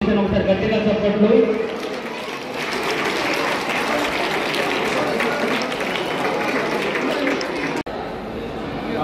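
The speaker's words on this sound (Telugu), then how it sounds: "లక్ష్మీ మార్వాడి శ్రీరాంపల్లి ఒకసారి గట్టిగా చప్పట్లు." A crowd applauds at an outdoor foundation charity event, steady dense clapping that carries on throughout, with voices over it near the start.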